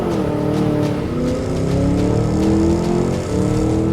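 A 690 hp Cadillac Escalade V pulls away with a loud, deep engine note that rises steadily and stays close throughout.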